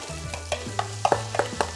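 Garlic and onions going into a pan for chicken forestier, with soft sizzling and a few scraping stirs and clinks of a utensil, close up and without talk.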